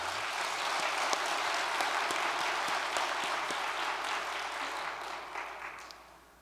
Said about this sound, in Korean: 기쁨과 감사의 박수를 올려주시기 바랍니다